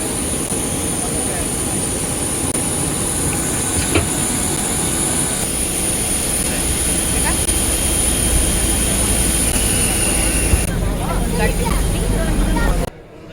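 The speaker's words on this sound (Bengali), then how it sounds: "আমাদের ফ্লাইট এখন ল্যান্ড করলো" A jet airliner landing at Singapore's Changi Airport fills the cabin with a steady, loud engine roar and rumble, with faint thuds along the way, before the noise cuts off abruptly near the end.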